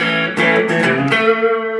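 A clean, bright electric guitar on the neck pickup rings out with a few picked notes and chords, sustained and close, slightly coloured by a Hardwire Valve Distortion pedal with gain at zero.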